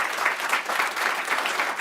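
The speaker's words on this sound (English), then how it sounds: "One more time, round of applause for Joe" A conference audience at a photography event claps for a presenter, dense steady applause with a gentle pulsing swell throughout, no voices over it.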